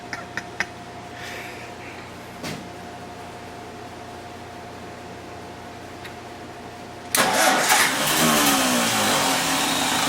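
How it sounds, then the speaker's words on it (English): A Ford Model A engine sits quiet through a few faint clicks and a steady electrical hum, then bursts into loud running about seven seconds in and keeps going with a rough, broad roar. "I'm almost straining trying to get it to start."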